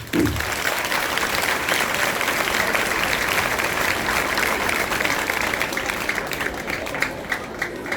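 Applause at a high school gathering for the headmaster and teachers, steady and dense crowd clapping sustained throughout, loud and continuous with no talk over it.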